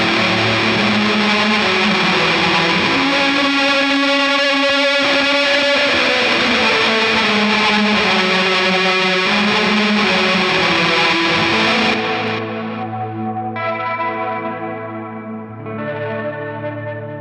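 Electric guitar fed through reverb, fuzz, an overdrive and delay for a big shoegaze-style indie rock wash: loud, dense distorted chords with smeared echoes, thinning after about twelve seconds into sparser ringing notes and trails, with no voices.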